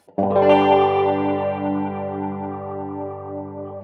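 Sustained electric guitar chord through a rotary speaker effect, with a swirling, warbling modulation that rises then settles, ringing out steadily without any voices.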